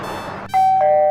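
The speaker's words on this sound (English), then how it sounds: "Yes, I hear the bell too, General Custard." A doorbell chimes twice, loud and close, a bright two-note ding-dong ringing out over a softer lead-in.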